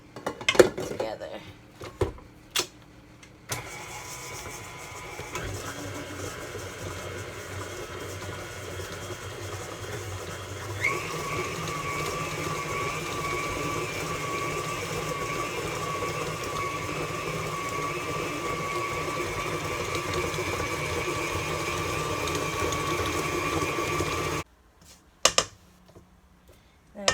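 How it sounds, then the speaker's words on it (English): An electric mixer creams butter, sugar, coconut extract and vanilla extract in a bowl, a steady whirring drone for about twenty seconds, with clinks and knocks just before it starts and after it stops. "I have my butter, my sugar, coconut extract, and vanilla extract in the bowl. I'm gonna start by creaming that"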